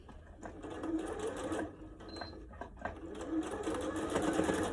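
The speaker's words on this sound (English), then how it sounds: "I'm gonna sew this down along the short side" A sewing machine stitches bias tape along the short side of a fabric face mask, a close, fast steady whir of the needle running for several seconds with slight shifts in speed.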